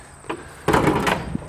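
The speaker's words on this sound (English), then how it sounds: "Let me get the other door open." A door of a building holding seats for a 1957 Plymouth is pulled open, with a faint click followed by a louder scraping, rattling slide lasting under a second, close by.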